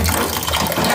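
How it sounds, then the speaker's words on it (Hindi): Soaking water being strained off rice in a home kitchen, a steady close gush and splash of pouring liquid without a break. "तो खैर इसका जो पानी है मैं स्टेन कर देती हूँ"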